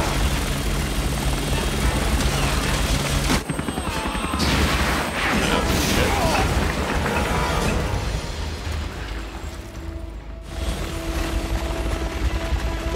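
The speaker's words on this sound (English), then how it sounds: "The chopper's pulling back!" Helicopter in the video game Resident Evil 6, a loud, steady rotor drone filling the scene with booming bursts and crashes breaking through, plus a brief voice.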